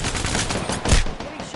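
Gunfire in the video game Apex Legends, a dense burst of rapid shots over a loud, busy game soundscape, close and continuous for the brief moment.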